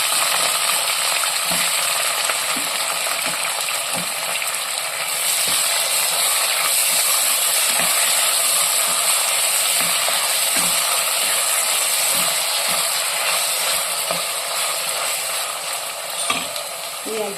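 Green chilies and onion frying in hot oil for ragi uppittu: a steady, dense sizzle throughout with occasional soft clicks and stirring knocks from the pan.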